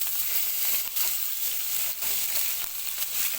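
Meat hits hot butter in a pan and sizzles loudly and steadily up close, the hiss swelling and dipping slightly with a few brief surges as pieces settle, and no talking.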